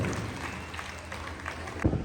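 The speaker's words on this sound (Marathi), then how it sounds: "जोरदार टाळ्या वहिनीसाठी झाल्या पाहिजे" Audience applause for a contest winner at a lively women's Chaitragauri celebration in Kolhapur: a steady wash of clapping from a crowd, moderately loud, ending in one sharp thump.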